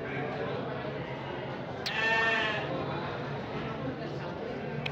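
Sheep bleating at the Andir Bayongbong sheep market in Garut: a single clear, wavering bleat rings out mid-clip over a steady background of market chatter and talk.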